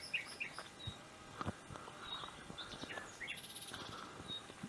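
Birds chirp and twitter faintly in the distance, with scattered calls over a soft, steady outdoor background.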